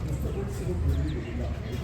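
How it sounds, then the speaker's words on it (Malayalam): Pigeons coo at a pet show among other caged birds, soft low calls heard briefly beneath nearby crowd chatter. "പ്രാവുകളാട്ടോ."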